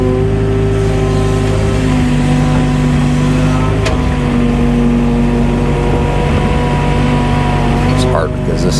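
A skid steer loader's diesel engine runs steadily and loud throughout at a building site for a walkout basement foundation, holding a constant idle hum with a brief shift partway through.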